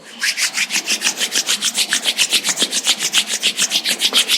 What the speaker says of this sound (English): let's generate some energy between our hands by rubbing our palms against each other